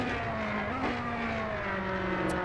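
Race car engines roar continuously in the racing video game Pretty Ninja Racing GT2, a steady loud drone of cars on track with a slight shift in engine pitch partway through, no talking.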